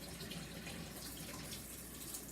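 Faint, steady rush of tap water running from a faucet to warm up before dissolving sugar, a continuous hiss with no talk.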